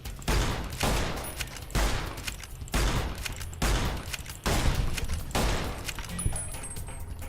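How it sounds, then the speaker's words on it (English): Gunfire from the Fallout: New Vegas video game, played on PC: a steady series of loud, evenly spaced shots, each a sharp crack with a short decaying tail, repeating about every second. "Oh, come on, shoot the dude in the head."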